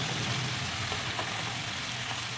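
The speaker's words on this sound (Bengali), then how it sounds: "আর একটু নেড়ে নিচ্ছি যাতে মজে যায় ভালোভাবে" Spices with salt, turmeric and chili powder sizzle softly in a frying pan for a rohu fish curry with bottle gourd, a faint steady hiss with slight scraping from stirring.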